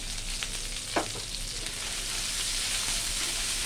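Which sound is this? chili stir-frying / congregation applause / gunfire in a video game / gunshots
chili stir-frying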